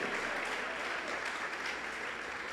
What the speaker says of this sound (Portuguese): Você pode dar um brado de vitórias, uma salva de palmas